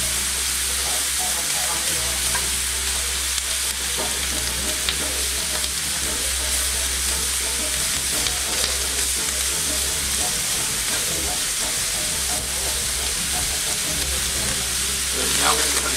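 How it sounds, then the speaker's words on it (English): Kielbasa, peppers and onion brown in a pan with a steady, loud sizzle and crackle over a low hum. Occasional stirring scrapes break through the hiss, and the sound stays close and continuous with no voices. "some of that meat is getting nice and browned up there"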